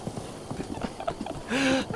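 In the video game Breath of the Wild, a horse's hooves clip-clop in a quick galloping rhythm, followed by a short tonal whinny near the end.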